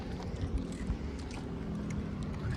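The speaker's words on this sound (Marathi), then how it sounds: "हा, गाडींचा आवाज येतोय" Vehicles passing outdoors as a low, steady rumbling drone at moderate distance, with no talking.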